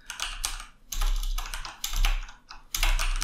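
Quick bursts of computer keyboard typing as a file name is entered, several clustered runs of key clicks separated by short pauses, close and fairly quiet.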